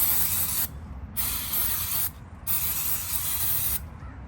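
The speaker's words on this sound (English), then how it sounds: "I like to just get a good spray, mostly just where the pad contacts are." Three long hissing bursts of aerosol spray onto brake pad contact points of a 1992-1996 Lexus ES300 or Toyota Camry front brake, loud and close, separated by brief pauses, with faint mechanical clicking underneath.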